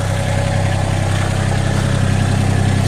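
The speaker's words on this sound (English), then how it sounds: "I'm going to use the tractor to drag it over." A tractor engine idles steadily in a driveway, hooked up to a basket during barn roof repair work, with a loud, constant low rumble throughout and no talking.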